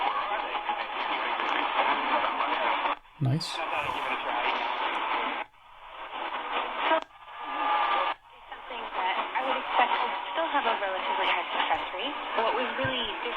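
Old-time radio programme coming through an Eton Grundig Executive Traveler portable receiver on medium wave in the evening, a hissy, band-limited broadcast with short dropouts and a brief spoken word nearby.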